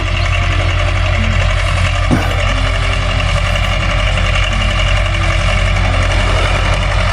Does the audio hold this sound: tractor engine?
yes